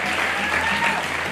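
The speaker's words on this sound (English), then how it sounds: "A big clap." Brief, dense applause from a school theatre audience after a musical performance of The Little Prince, a steady burst of many hands clapping that continues evenly for just over a second.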